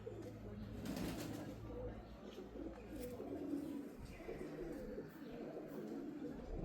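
A female pigeon coos softly and repeatedly in a quiet room, low throaty calls with faint background noise and a little distant talk.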